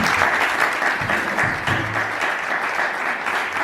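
An audience at a church thanksgiving ceremony for a pastoral leader couple applauds steadily, with dense, loud clapping that continues throughout.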